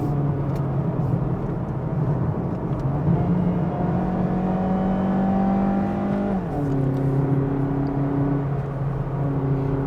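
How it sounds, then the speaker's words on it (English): A Mazda CX-3 with a 1.5-litre engine climbs the Genting hill road, its exhaust giving a steady, moderately loud drone that rises gradually, then drops abruptly with a gear change before settling again. "Oh, I like the exhaust note, it's very nice."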